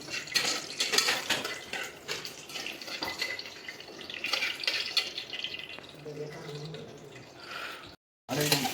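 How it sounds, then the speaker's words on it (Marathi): A spoon stirs khichdi in a metal pot holding bay leaves, cloves and peppercorns, making repeated close clinks and scrapes along with watery sloshing, while voices murmur in the background and the sound cuts out briefly near the end. "तर चांगलं हलवून घ्यायचं."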